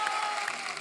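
Brief burst of studio audience applause welcoming a contestant on a Hindi comedy talk show, dense clapping at steady volume with light cheering.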